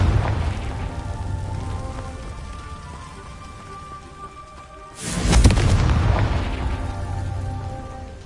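In Hogwarts Legacy, the Confringo spell goes off with a sudden, loud, deep blast partway through, and a rumbling roar trails after it over a constant rain-like hiss. No one speaks.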